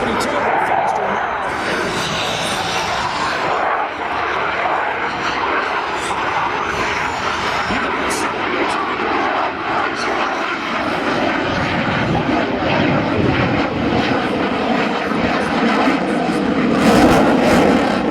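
F/A-18E Super Hornet jet flying a slow demonstration pass at an air show, a loud, sustained engine roar with a slowly shifting pitch that swells near the end, while a commentator talks over it.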